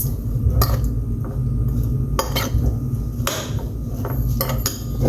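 Bitter gourd salad is mixed with salt in a bowl, with irregular clatters and knocks of a utensil against the dish over a low, muffled rustle.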